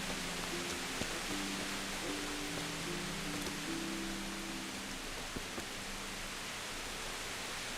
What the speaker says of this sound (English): Always raining in this town.